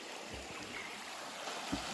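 River water flowing over a bridge on a forest road near Mandwa in Buldhana, heard as a steady, close rushing wash with no talk over it.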